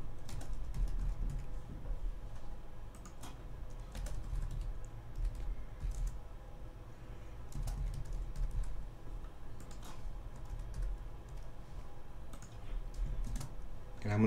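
Typing on a computer keyboard while filling out an online book recommendation form, heard as steady, fairly quiet clicking over a low background hum.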